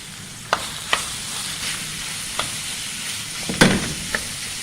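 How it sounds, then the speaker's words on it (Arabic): Minced meat sizzling with onions in a pan for lasagna, a soft, steady fry under several sharp scrapes and clinks of a spoon against the pan, one louder clatter near the end. "هنزل اللحمه المفرومه على البصل كده"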